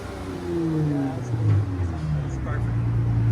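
A Dodge Challenger SXT/GT with a 3.6L V6 and aftermarket exhaust rumbles with a deep, droning tone that rises and settles, steady and fairly loud, with people talking over it.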